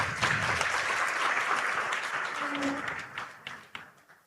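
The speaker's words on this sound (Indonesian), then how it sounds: "beri tepuk tangan untuk beliau" Audience applause for Indonesia's Minister of Housing and Settlement Areas at an official gathering, a sustained wash of clapping that fades toward the end, with a voice speaking faintly underneath.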